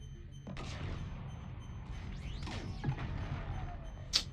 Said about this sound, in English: Garrus shot everybody before I could use it